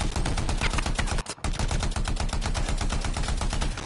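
Rapid automatic turret gunfire in the Anthem video game, a loud, dense stream of repeated shots with one brief break, continuous and close throughout.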